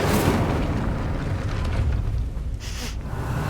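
A burst of fire from the Incendio spell in Hogwarts Legacy, a loud rumbling, crackling whoosh that fills the whole clip and tails off slightly toward the end.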